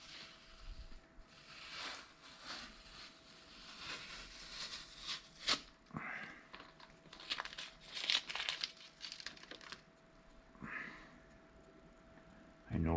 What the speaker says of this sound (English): I'm going to take the tape up.